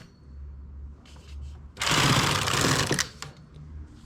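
A home knitting machine carriage, set at tension 6 with the ribber also at 6, sweeps across a single row of a knitted slipper: a loud, rasping whir lasting about a second, framed by quieter handling clatter.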